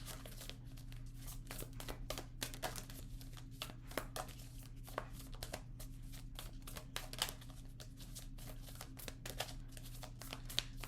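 Soft papery shuffling and flicking as tarot cards are drawn from a deck, quiet and close, with crisp irregular card snaps over a steady low hum.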